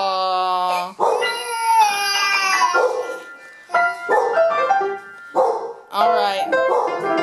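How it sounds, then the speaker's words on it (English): A nearby dog lets out several drawn-out, howling barks in separate bursts, and a person speaks briefly between them. "why are you barking?"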